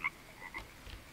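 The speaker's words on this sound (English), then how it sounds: "I hear frogs." Frogs croak softly in the jungle of the video game Green Hell, with several short, faint calls scattered over about a second.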